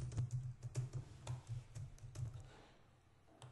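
Computer keyboard typing CSS code, a quick rhythmic run of soft clicking keystrokes close by that trails off toward the end, with no talking.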